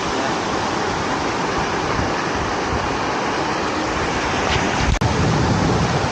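A fast-flowing river current during a summer outing in Korea, heard as a loud, steady rush of water that carries on without pause and is heard close up, with no voices.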